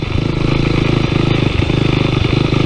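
Carbureted Honda NX motorcycle engine idling close by, a steady loud rapid thumping pulse with mechanical clatter throughout, even and unbroken.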